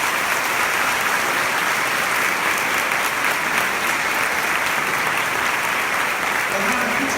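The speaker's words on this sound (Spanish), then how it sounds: "Vamos a dar un fuerte aplauso a Jesús." A church congregation claps loudly and continuously after a prayer, a dense wash of hands sustained at constant volume with no break, while a few faint voices may mix in near the end.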